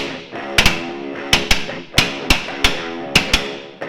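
Sharp, loud hammer strikes land in quick pairs and singles, about a dozen blows in a steady working rhythm.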